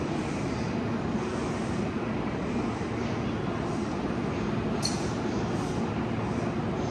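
Onboard ride on a JR East 209-1000 series Chuo Line rapid train with Mitsubishi GTO-VVVF traction, heard as a steady, loud broadband running roar filling the whole clip without pause.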